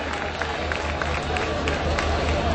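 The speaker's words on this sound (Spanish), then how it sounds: "fuerte el aplauso para las pequeñas de la Escuela de Baile VIAD" An audience at the Víspera Alcalá 2014 festival applauds young girls from a dance school, a continuous dense patter of clapping mixed with crowd murmur and some cheering, over a low steady hum.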